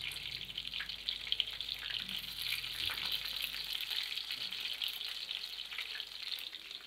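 Fish frying in hot oil turned down to low heat, a steady soft sizzle with faint bubbling continuing evenly throughout, fairly quiet and alone.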